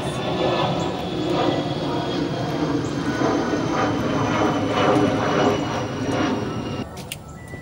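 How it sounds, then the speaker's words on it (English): A loud, steady airplane roar overhead, a broad engine rumble that holds for several seconds before fading away. "let me wait till the plane passes"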